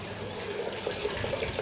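Tap water runs steadily into an empty drinking glass, a continuous close splashing pour with a slight rising fill tone and no voices.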